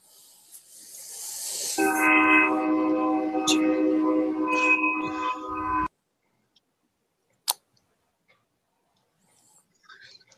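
A loud, steady train horn blast sounds for about four seconds and cuts off sharply, followed by near silence with a few faint clicks.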